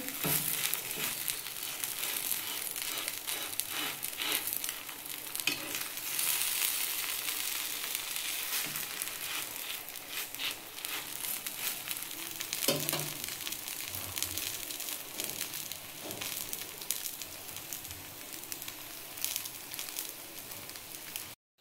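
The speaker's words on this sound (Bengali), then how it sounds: "এইভাবেই বন্ধুরা আমি সব কটা ভেজে ফিরে আসছি" Chire gola ruti, soft poha flatbreads, frying in a pan with a continuous crackling sizzle of hot oil, joined by occasional scraping and turning sounds, heard close with no talking.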